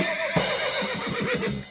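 A horse neighing in a children's knight story, a loud close whinny with a shaky, descending rhythm of several quick pulses, heard alone.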